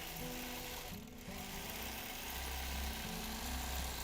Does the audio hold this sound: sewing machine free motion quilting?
yes